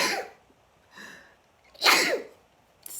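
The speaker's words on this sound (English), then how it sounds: "uh-oh, I'm going to sneeze" A person sneezes loudly and close up, with a sharp breathy intake, a softer puff, then the full explosive sneeze and a trailing exhale.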